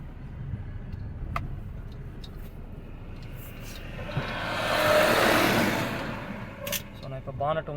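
Diesel engine of a Tata Manza car with low pickup and black smoke revs up once in a rising then falling swell, fairly faint beneath a steady idle, with people talking over it.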